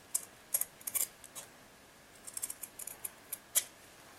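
Small scissors snipping through fabric around a shape, with quiet, sharp clicks in irregular clusters, close and faint against a soft background hiss.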